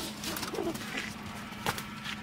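Pakistani pigeons in a loft give a few soft coos, close by, over a steady background hum.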